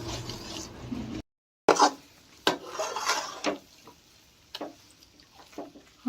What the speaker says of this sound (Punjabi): ਘਿਓ ਚੰਗੀ ਤਰ੍ਹਾਂ ਆਟੇ ਨੂੰ ਹਿਲਾ ਲੈਣਾ